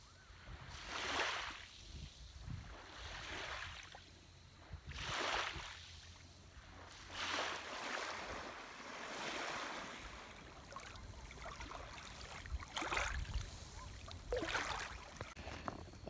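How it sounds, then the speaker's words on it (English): Incoming tide waves at the Bay of Fundy wash in and recede in slow, broad surges every few seconds, a soft, distant rolling hiss with wind behind it. "the Bay of Fundy, and the tide is coming in"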